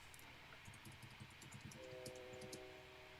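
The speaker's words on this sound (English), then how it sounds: "Ooh, train whistle." A train whistle sounds in a short, faint blast of steady tones partway through, over the low rumble and clatter of rolling rail cars, heard at a distance.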